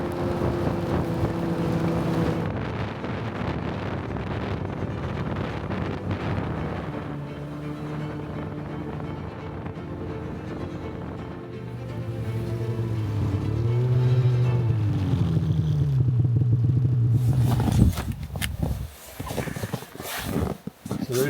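Snow machines drone steadily on snow, a loud continuous engine roar with shifting pitch as they run, mixed with wind buffeting the microphone and a sharp clattering burst near the end.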